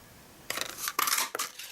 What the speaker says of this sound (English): And then we're going to cut out our label.